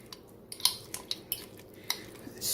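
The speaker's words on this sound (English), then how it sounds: "stir that up in there." A spoon stirs beef mac and cheese in a pot, giving a few quiet scattered clinks and scrapes against the metal, close and without speech.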